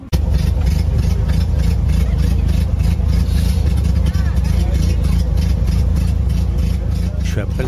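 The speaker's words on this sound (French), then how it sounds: "Le son de son moteur, ça donne quoi ?" The engine of a 1924 Renault NN torpedo car under restoration runs at a steady idle, close and loud, while people talk over it.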